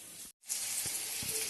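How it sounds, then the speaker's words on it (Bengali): Potatoes and pointed gourd frying in a pan in a home kitchen, a steady bright sizzle broken by a brief silent gap, with faint clinks underneath; no one speaks. "এই যে সকালবেলা এখানে আলু আর পটল ভাজছি"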